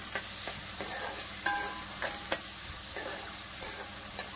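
Onions and green chillies fry in a pan with a faint, steady sizzle, punctuated by light ladle taps and scrapes at irregular intervals, close by and with no talking.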